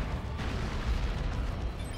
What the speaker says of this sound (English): is knocked back by that touch of Nuggle explosion